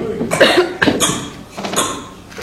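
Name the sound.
people coughing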